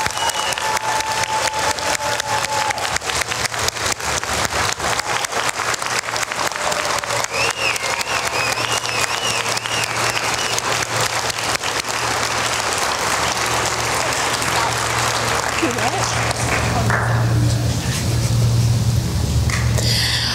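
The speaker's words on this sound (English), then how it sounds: "I would like for everybody to please give them a round of applause" Convention audience at the 2014 Republican Party of Texas SD14 convention applauding the pages, sustained, loud, even clapping from a large room lasting the whole stretch, with a low hum underneath.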